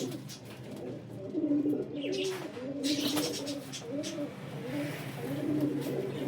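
Long-flying black pigeons with black tails coo repeatedly in low, rolling phrases at close range, several birds overlapping in a steady rhythm with brief chirps above.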